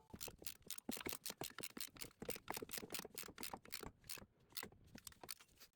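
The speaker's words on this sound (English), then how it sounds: "what it does is ratchets out and slowly presses the pistons in, like so" An RB279 brake piston compressor tool ratchets as it presses brake pistons back in on a Toyota Highlander, giving a dense string of quick, close mechanical clicks with brief pauses between bursts.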